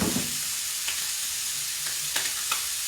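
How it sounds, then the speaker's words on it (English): Hamburger and onions fry in a regular stock pot with a steady, close hiss of sizzling and a few faint stirring clicks and scrapes, with no talking. "I'm going to go ahead and put my hamburger in here."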